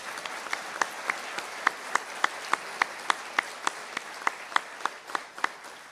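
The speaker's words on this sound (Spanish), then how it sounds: "pide un fuerte aplauso para ella" Sparse applause from an audience at a talk, a small number of distinct, evenly spaced claps rather than a full ovation, fairly quiet and distant.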